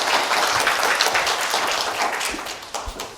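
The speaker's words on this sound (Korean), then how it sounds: "힘찬 박수로 모셔보도록 하겠습니다." An audience at an economic policy lecture claps for a speaker being introduced, a steady spatter of applause that gradually thins and fades toward the end.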